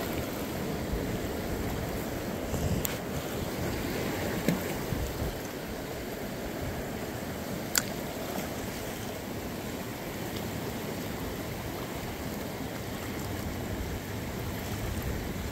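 Steady wash of shoreline waves breaking while fishing from shore, a continuous broadband roar with a few faint clicks and taps over it, no talk.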